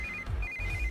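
Two-tone electronic phone ringtone of an incoming call, a steady pulsing pattern repeating across the clip over a low background hum, with no talk.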